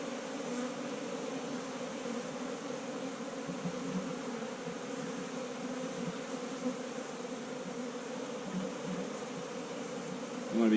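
Honey bees hum in a steady, dense drone around an open hive while frames are handled and put back, the buzzing continuous and close throughout with no voices.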